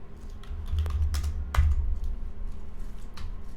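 Quick bursts of typing on a computer keyboard, a few clustered key presses and clicks close by, with short pauses between strokes, no talking.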